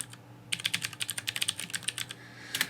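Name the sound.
typing on a computer keyboard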